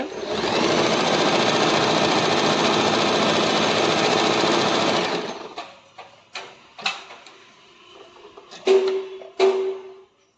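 An Usha Allure DLX sewing machine sews a picot stitch. It runs with a loud, steady mechanical whir for about five seconds, then stops. A few scattered clicks and handling knocks follow.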